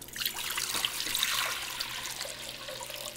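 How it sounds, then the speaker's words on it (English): A pot roast splashes into a pot of water in a home kitchen, a short close watery slosh and trickle that settles quickly, with no talking. "Will you open that, Chris, and drop it in the water?"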